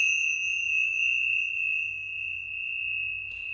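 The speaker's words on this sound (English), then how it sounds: "that initial hit of the tincture bells, and then listen, it's still ringing now" Tingsha-style hand bells have just been struck, leaving a clear, sustained high metallic tone that hangs steadily and slowly fades, with a faint rustle near the end.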